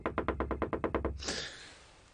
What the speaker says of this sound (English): The tapping's light, but very persistent.